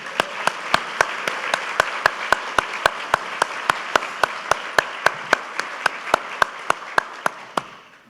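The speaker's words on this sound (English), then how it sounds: "I think we should give them all one last round of applause" Room-filling applause for award honorees at a Good Samaritan awards ceremony, a dense crowd clatter marked by a steady rhythmic beat of loud unison claps, fading out at the end.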